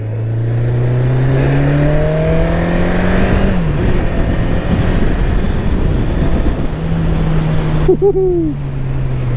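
A 1987 Kawasaki KZ1000 (ZL1000) motorcycle engine revs steadily through a ride, its pitch climbing and falling as it shifts, with a sharp burst of revs near the end; loud, close and continuous, with no talking.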